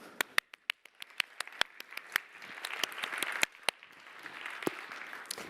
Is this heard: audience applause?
yes